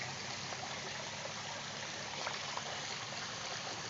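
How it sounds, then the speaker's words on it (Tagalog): A river flowing steadily, a continuous broadband rush of water close by with no voices or other sounds. "Ayun yung ilog."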